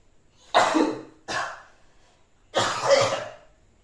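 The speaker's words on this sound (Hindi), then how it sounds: "थोड़ी खांसी आ गई।" Three harsh coughs close to the microphone, two quick ones then a longer one after a short pause, with silence between.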